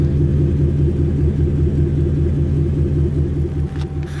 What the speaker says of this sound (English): Brand new dual Flowmaster exhaust system. So it sounds a little bit beefy, but not too loud.